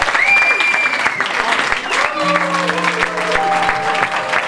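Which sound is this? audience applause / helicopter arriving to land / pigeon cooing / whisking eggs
audience applause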